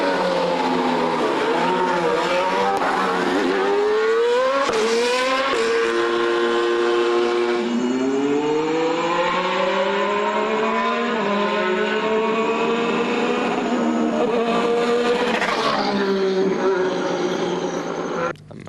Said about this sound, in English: So to give you a sample of how things have changed, here's Lewis Hamilton's car from last year,